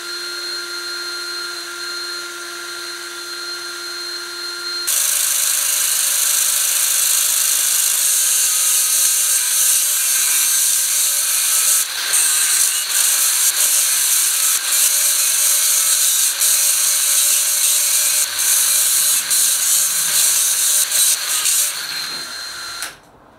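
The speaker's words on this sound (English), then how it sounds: "obviously time to grind down these welds" Angle grinder grinding down fresh welds on a Porsche engine cradle for a Subaru EZ30R flat-six swap, a loud continuous high-pitched whine that starts after a quieter tone and runs steadily for most of the clip, with small shifts as it bites the metal.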